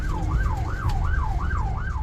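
Ambulance siren wailing in a steady repeating up-and-down cycle, about two cycles per second, loud and close over rumbling road traffic while the vehicle drives toward a hospital in Rafah.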